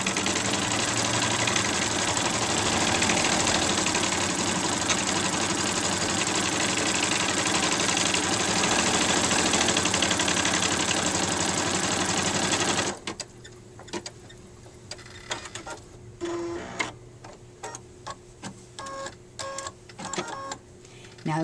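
An embroidery machine stitches out the outline of an egg shape on fleece for a plush Easter egg, a steady loud mechanical whirring that runs continuously and then stops abruptly, leaving quieter clicks and handling noises.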